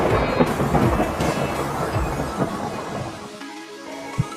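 A thunderclap from a lightning strike rumbles loud and broad before fading away, with a short low thump near the end.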